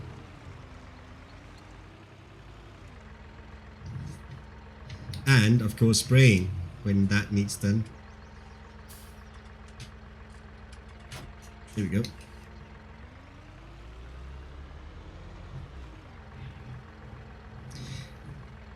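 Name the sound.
tractor engine in Farming Simulator 19 video game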